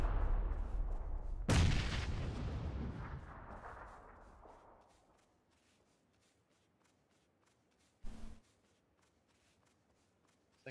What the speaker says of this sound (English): Oh, grenade.